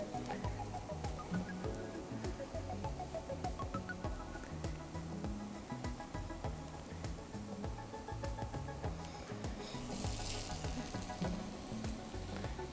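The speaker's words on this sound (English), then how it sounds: "you'll just put them in the pan to saute" Arepa cakes sauté in a pan with a steady, low sizzle and crackle that carries on without a break, quiet and close, briefly brighter near the end.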